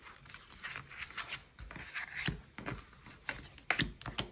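Tarot cards being drawn and handled: a run of dry papery taps, slides and shuffling rubs, close and fairly quiet, in irregular bursts with brief pauses between.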